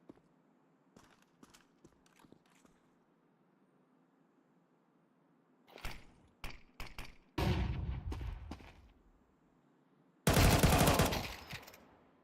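Gunfire in the video game Vampyr: sparse sharp shots and clicks at first, then clustered bursts and two longer loud volleys of rapid fire, separated by quiet stretches with a low steady hum.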